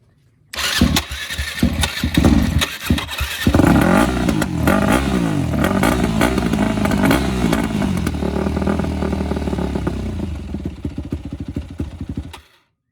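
A 2003 Yamaha WR250 motorcycle engine cranks and catches, then runs loud and close for about twelve seconds with a rough, uneven idle, popping and sputtering before cutting out.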